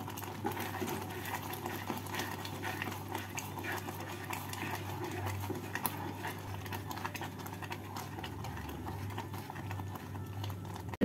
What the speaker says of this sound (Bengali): এবার গ্যাসটাকে একদম সিম করে দিয়ে আস্তে আস্তে নেড়ে নেড়ে শুকিয়ে নিতে হবে।